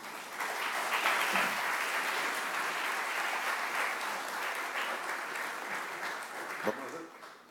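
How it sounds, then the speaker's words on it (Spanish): A crowd applauds continuously, a dense wash of clapping that holds steady for several seconds before tapering off at the end. "el doctor Gary Amador, para quien pide un aplauso."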